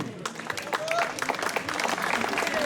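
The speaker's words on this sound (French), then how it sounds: "Vos applaudissements pour Adrien Bandu" Crowd applause for the winner of a cycling race in Valdériès, steady clapping from many spectators throughout, with some voices mixed in.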